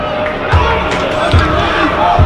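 Football crowd at a Torquay United home match against Chippenham Town, a dense continuous roar of many voices with a few louder swells and low thuds, heard close and steady throughout.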